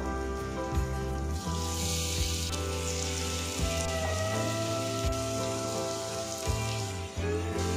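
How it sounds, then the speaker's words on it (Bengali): Ridge gourd dhoka frying in mustard oil in a pan, a constant close crackling sizzle with occasional soft knocks from turning the pieces, under a steady hum, no talk. "ঝিঙের ধোকাগুলো আমি উল্টে পাল্টে দেখুন এইরকম লাল লাল করে ভেজে নেব"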